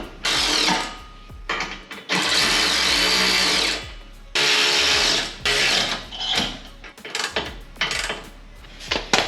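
A power drill tightens bolts during electrical work on a vehicle, fitting fog lights, in several loud whirring bursts of about one to two seconds, then shorter, choppier pulses toward the end, with no talking.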